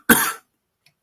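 A single sharp cough close to the microphone, then near silence apart from a faint click and a small noise at the very end.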